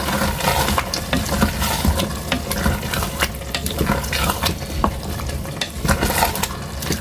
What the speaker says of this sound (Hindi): अब ये आलू इसके साथ अच्छे से भुनाई करके